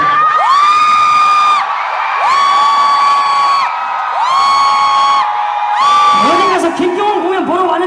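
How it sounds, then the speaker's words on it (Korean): A concert crowd at a show in Incheon roars in four long, sustained bursts of cheering and shouting with brief dips between them, loud and close, followed by a voice at the end. "지금 여러분의 함성 소리가"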